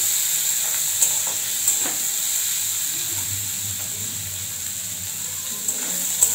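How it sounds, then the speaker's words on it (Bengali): Chopped onion frying lightly in a pan gives a soft, steady hiss and low sizzle, close and fairly quiet, with a few faint clicks of a utensil. "পেঁয়াজটা একটু হালকা করে আমি ভেজে নেব।"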